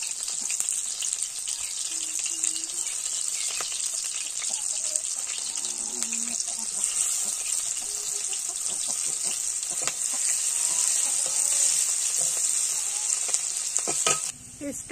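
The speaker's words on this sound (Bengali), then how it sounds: "পেঁয়াজ কুচি আর কাঁচা লঙ্কা দিয়ে দিই।" Chopped onion and green chillies frying in oil in a kadai for a mixed small-fish curry, a steady loud sizzle throughout with occasional scraping and clinking of a spatula against the pan.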